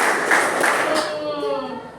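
A class of ninth-grade students in a classroom claps hands together as part of a counting game. A few quick rounds of clapping come close and loud, then a voice sings out over them as the claps fade.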